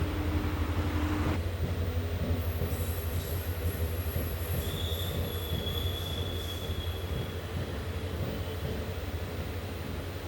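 Amritha Express pulling out of Dindigul Junction, a continuous heavy rumble of rolling coaches with a sustained high wheel squeal and a second shriller squeal joining midway, close and loud, without talk.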